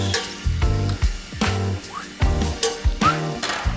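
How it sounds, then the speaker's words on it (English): Garlic studs and a nub of butter sizzle in a hot pan while cooking steak, a steady frying hiss broken by sharp stirring clatters, with a rhythmic musical beat pulsing underneath. "Hot pan, in she goes. Here comes our garlic studs."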